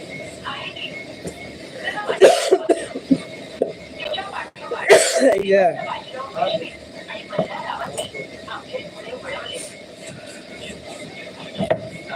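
A person sick with a cold and worsening cough coughs a couple of times in short harsh bursts, with background noise and some talk around.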